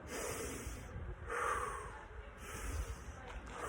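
A person draws slow, deep breaths through the nose to demonstrate diaphragm breathing for runners, two or three airy inhales close to the mic with soft pauses between.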